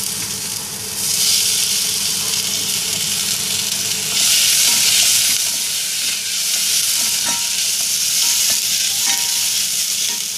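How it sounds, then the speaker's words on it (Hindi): Onions for Goan masoor dal sizzle and crackle in a hot pan, a loud, steady frying hiss swelling as they are stirred, with occasional scrapes and clinks of the spoon. "सो ऑनियन घाता."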